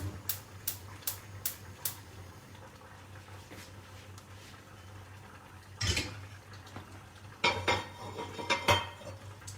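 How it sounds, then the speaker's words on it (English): Metal pots and utensils clink and scrape in a kitchen, with a few light taps at first and heavier clanks as a soup pot is set on a stove's back burner. "I'm going to put the soup on the back burner."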